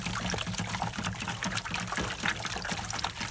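Dirty rinse water pours and trickles steadily out of a washed car air filter, a continuous close splashing and dribbling stream with no break and no talking.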